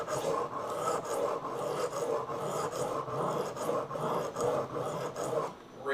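A knife blade rasping back and forth over a sharpening stone, raising and then lightly removing a burr, in close, steady rhythmic strokes that continue almost without pause before a brief lull at the end.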